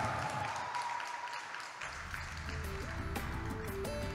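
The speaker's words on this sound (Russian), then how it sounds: "Ваши аплодисменты группе «Дети" An audience applauds a children's dance group after a jive final at a dance competition, with steady clapping that goes on throughout while music plays and then rises in the second half.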